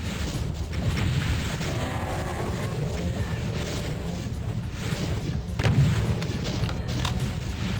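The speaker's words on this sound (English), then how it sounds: "I wonder if the Cyber Demon can be convinced to just fire some rockets around the edges." Cyberdemon rockets exploding in Doom, a continuous low rumbling roar of blasts with a couple of heavier booms swelling out of the din.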